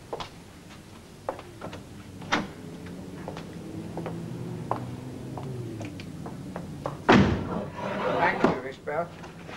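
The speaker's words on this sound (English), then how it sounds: "go outside and then close the door" A door shuts with a loud slam near the end, following a stretch of faint knocks and ticks under a quiet room, inside a staged radio drama.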